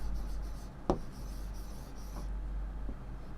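Pen writing on paper, soft close scratching strokes with a single sharper tap, over a low steady hum.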